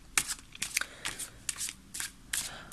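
Tarot cards shuffled by hand, a quick run of crisp riffling bursts repeating about every half second, close and clear with no talking.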